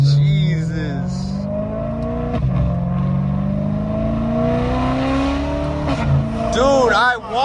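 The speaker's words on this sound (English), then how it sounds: "BMW's Notorious V8. Dude, this thing sounds good, bro. Bro, but wait till we got higher RPM." A BMW M3 with the S65 V8 revs hard at a nighttime Type R car meet, its loud engine note climbing steadily in pitch over several seconds, close by, with voices around it.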